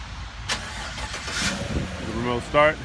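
A 2016 Chevrolet Silverado 1500 LT crew cab pickup with tow package starts by remote, a short cranking catch then an engine firing near the end, with someone talking over it.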